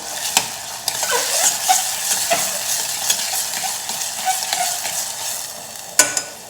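Tomato, ginger garlic paste and chili pieces sautéing in a pan, with a steady sizzle broken by repeated scraping strokes of a spoon against the metal and a sharper clack near the end, close up with no talk.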